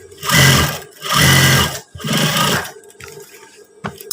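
Sewing machine stitching trousers in three loud, close bursts of rapid whirring separated by brief stops, then a quiet tail with a small click.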